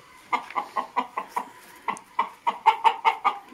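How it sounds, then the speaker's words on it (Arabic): A nearby rooster gives a steady run of rhythmic clucks, about a dozen in quick succession, with a brief pause partway through. "هذا الديك ده صوته الجميل والرائع"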